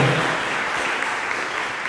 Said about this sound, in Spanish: brinden un poderoso aplauso al Señor